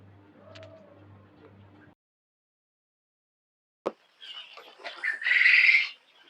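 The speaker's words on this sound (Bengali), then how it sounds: "কোয়েল পাখির বাচ্চাগুলো দেখতে খুব সুন্দর" Four-day-old quail chicks at a breeding farm chirp at night: a faint, brief cluster of high peeps after a short silence, following a low hum and a single sharp click.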